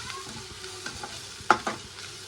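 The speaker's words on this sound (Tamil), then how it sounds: "மஞ்சத்தூள் ஆட் பண்ணுறேன். நல்லா மிக்ஸ் பண்ணிக்கலாம்." Turmeric powder being stirred into goat blood frying in a pan, with a steady soft sizzle and a couple of sharper scraping stirs near the end, close and alone without talk.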